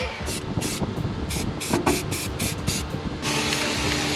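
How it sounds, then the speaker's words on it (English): Repeated short bursts from a spray paint can, about nine quick hisses in an uneven rhythm, followed by one longer continuous spray, close up with some clatter underneath, while refinishing a rusty BMW E36 battery tray. "Always use spray paint in a well ventilated area."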